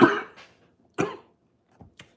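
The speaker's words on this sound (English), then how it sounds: "Excuse my cough." A single close cough, then a second shorter cough a moment later, followed by faint small throat sounds.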